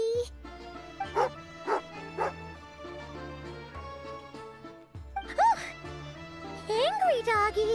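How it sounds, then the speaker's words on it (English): An angry dog in the Genshin Impact video game barks, with a couple of barks early and more later, over game music and character voices. "Angry doggy."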